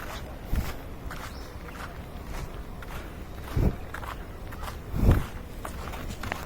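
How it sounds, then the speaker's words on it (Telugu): Footsteps crunch at a slow, irregular pace, three or four distinct steps close by over quiet outdoor background. "బాగా నడుస్తున్న సౌండ్ వచ్చింటుంది మీకు, వస్తుంది మళ్ళీ నడుస్తున్నప్పుడు"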